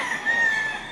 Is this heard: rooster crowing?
yes